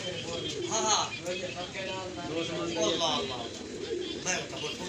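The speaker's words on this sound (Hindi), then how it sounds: "छोटा सा नन्हा सा कबूतर जो 4-5 दिन का है" A tiny pigeon chick, four or five days old, gives soft repeated cooing and cheeping calls amid ongoing talk in a village setting.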